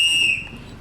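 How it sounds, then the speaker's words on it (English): A steady, shrill whistle blast signals the start of a horse race, sounding alone and fairly clear for under a second, then easing off. "And the whistle has gone, they're off."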